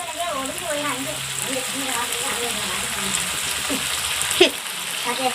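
Food fries in hot oil in a Tamil home kitchen, a steady close sizzle and crackle running throughout beneath a voice talking.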